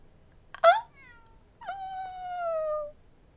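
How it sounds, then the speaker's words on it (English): A cat in the video game The Great Ace Attorney gives two meows, the first short and sharp, the second long and falling. Both are clear against a quiet background. "I want to look at the cat."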